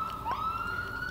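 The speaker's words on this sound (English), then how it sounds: "excuse me for the sirens" A police siren wailing at a steady pitch after a brief rising sweep, moderately loud and somewhat distant over low background rumble.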